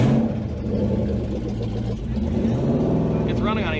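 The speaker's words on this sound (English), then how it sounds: "It's running on 8 cylinders, you can tell by how it sounds." A Dodge V8 idles close by with a deep, even rumble and steady throbbing pulses, holding a constant level throughout while someone speaks over it.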